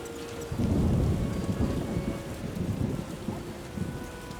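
Steady heavy rain pours down while low rumbling thunder rolls through in The Witcher video game, fairly loud and close, with no voices.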